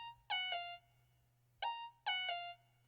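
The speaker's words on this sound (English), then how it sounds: "Then I grabbed this like bell from Surge." A synthesized bell patch from Surge rings out in four clear, bright strikes, two quick pairs with gently decaying tones over a low, steady hum.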